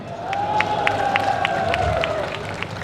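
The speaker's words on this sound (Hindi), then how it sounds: "देखिए फिल्मों में काम करने वाले लोग कितनी मजबूत से ताली बजा रहे हैं।" Crowd clapping at a chief minister's public rally in Bareilly, rhythmic claps repeating roughly every third of a second under a sustained tonal hum and crowd noise, moderately loud throughout.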